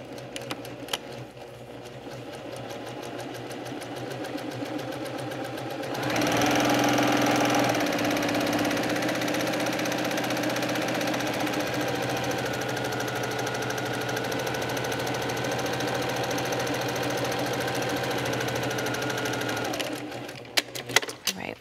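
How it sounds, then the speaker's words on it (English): A sewing machine runs steadily, stitching large quilt pattern pieces along a line, with a close mechanical hum and rapid needle rhythm sustained for about fourteen seconds, then slowing to a stop. "I'm going to stitch on that other outside line"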